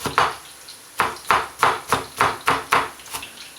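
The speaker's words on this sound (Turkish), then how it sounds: "Böyle ince ince kıyılsın soğanlar." Knife finely chopping onions on a board for oven-baked karnıyarık, a steady run of about eight crisp, close chops at an even rhythm with no voices.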